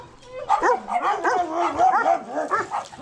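Neighbours' dogs yelp, whine and bark in a continuous, overlapping clamour, loud and fairly close.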